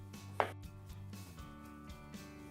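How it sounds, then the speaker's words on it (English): A knife cuts through the connective tissue of raw veal shanks on a board, giving a single short, sharp chop followed by faint soft scraping in a quiet kitchen. "It is very important to cut through the connective tissue in 3 points."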